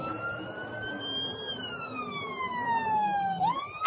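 A wailing ambulance siren from the video game Emergency Ambulance Simulator sweeps slowly downward then jumps back up, steady and fairly loud with a faint background rumble.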